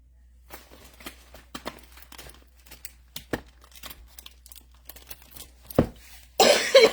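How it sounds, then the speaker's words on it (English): A few sharp coughs close to the microphone between soft rustles and clicks, ending in a loud, harsh burst. "I'm sorry about coughing in your ear."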